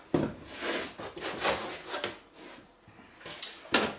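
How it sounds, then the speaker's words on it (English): Hand sanding of a model Horten Ho aircraft wing and body part: irregular scratchy rubbing strokes, close and moderately loud, separated by short pauses. "Now there's going to be some sanding."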